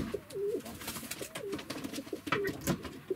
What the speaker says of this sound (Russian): Это они маленькие голубята, уже выросли, в комнате два.